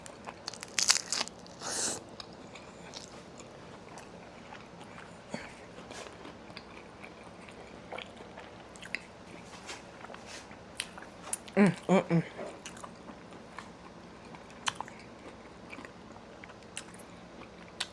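Bites and chewing on a homemade meatball parm sub heavy with cheese, soft close crunches and wet mastication scattered through quiet, with a cluster of louder bites near the middle.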